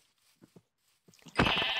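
A sheep in Minecraft lets out one loud, close bleat after a stretch of quiet with a few soft thuds and footsteps, and no voices are heard.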